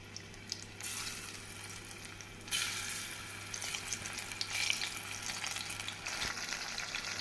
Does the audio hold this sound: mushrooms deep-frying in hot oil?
yes